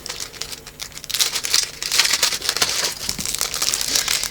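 A small plastic-wrapped package of tool tips is opened close up, with loud crinkling and tearing of the plastic in irregular bursts, no talking.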